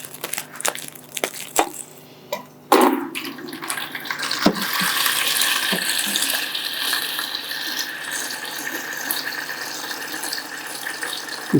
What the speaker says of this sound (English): So I'm going to take out a little bit of this water, and just to get some of that mulm up as well.